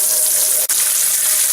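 Water from a kitchen tap runs steadily into a sink after a drain repair, a loud continuous hiss and splash broken only by a momentary dip partway through.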